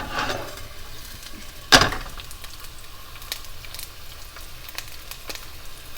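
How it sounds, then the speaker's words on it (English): Thinly sliced onions drop into a hot pan with one sharp thud and hiss, then settle into a faint, steady sizzle with a few light clicks. "And now I'm going to add the onions."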